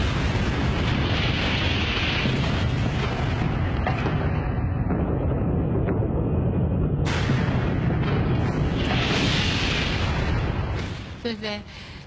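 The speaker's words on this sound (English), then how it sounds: "A fraction of a second later came a powerful shockwave which moved at the speed of sound." Atomic bomb blast and shockwave over Hiroshima, Japan: a continuous loud roaring rumble that dies briefly and surges again before crackling away at the end.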